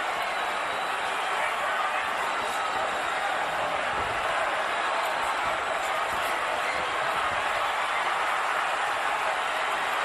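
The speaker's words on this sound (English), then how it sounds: "The crowd is in a fever pitch." A packed boxing arena crowd roars at fever pitch during a Yuri Foreman fight, a dense, steady wall of cheering that holds loud and unbroken throughout.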